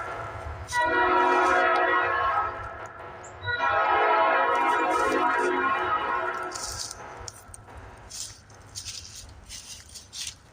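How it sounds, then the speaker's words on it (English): A train horn blares in two long, loud blasts with a rich harmonic tone, followed by the rattling clatter of rail cars passing close by and fading. "I'll talk when the train goes by."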